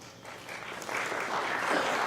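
Audience applause at a municipal candidate forum in Wilmington, a steady broadband clatter of many hands that swells slightly and holds for about two seconds, moderately loud with no talk over it.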